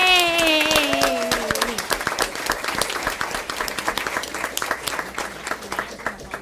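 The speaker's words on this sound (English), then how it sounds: "let's give them one big round of applause" An audience at a school district board meeting applauds to honor employees. Dense clapping rises after a brief cheer-like vocal at the start and continues strongly throughout, close and loud.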